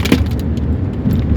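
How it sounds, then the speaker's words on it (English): A chunk of ice breaking off a car gives a sudden close clatter and thump early on, followed by a brief rattle over low outdoor rumble. "That's a piece of ice coming off my car"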